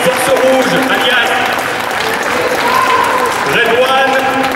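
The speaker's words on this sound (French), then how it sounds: "continuez d'applaudir" A large crowd claps continuously at a Japan Expo stage show for a Bioman anniversary, a dense applause wash with a voice speaking over it.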